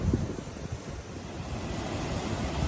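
Ocean waves surge and wash continuously near the microphone, mixed with wind noise, a steady loud roar with no talking.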